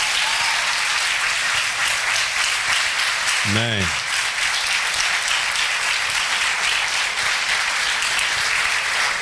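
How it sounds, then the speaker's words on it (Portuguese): A church congregation applauds steadily at a Pentecostal-style congress service, a dense, even wash of clapping across the whole stretch, with one brief spoken word from the pulpit midway. "Vamos aplaudir ao Senhor."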